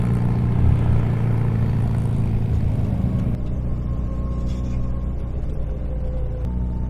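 A 1960 Austin Healey MK1 Bugeye Sprite drives on a test drive, its engine droning loud and steady from inside the car with road rumble underneath, the pitch shifting partway through as it changes speed.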